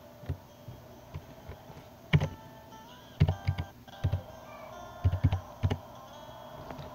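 Irregular clicks of typing on a computer keyboard while the WolfQuest game runs on a computer, scattered single taps and quick clusters of keystrokes over a low steady hum, close and without talk.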